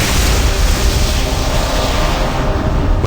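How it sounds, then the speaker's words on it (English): A loud, sustained explosive roar with a rumbling low end from a cutscene in the Icewind Dale video game, set in a cave, holding steady for about three seconds before easing slightly at the end. "Suddenly, the entire cave was engulfed in an explosion of blinding light."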